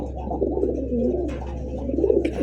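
Deshi pigeons of the round 'golla' type coo in soft, rolling low notes close by, repeating through the moment, with a faint chirp near the end.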